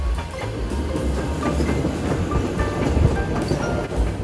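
A train rolls along the Carpathian mountain railway at the Uzhok pass in Zakarpattia, with a steady low rumble and rhythmic clickety-clack of wheels on rails, loud and continuous throughout.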